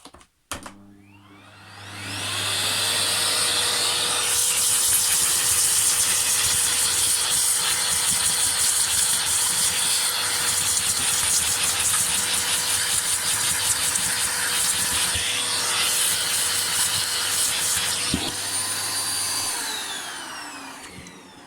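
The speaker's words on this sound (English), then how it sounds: "this really strong vacuum cleaner. Put it on max level and drag with the hose over the brush like this, very quickly" A powerful vacuum cleaner running at maximum suction roars steadily and loudly after a brief start-up, its hose dragged quickly over a Roomba robot vacuum's brush, with the drone holding for about twenty seconds before cutting off.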